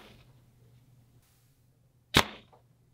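One sharp, loud release snap from a Gearhead Disrupter Pro 24 bow launching a 501 grain arrow, close by and decaying quickly after a quiet low hum.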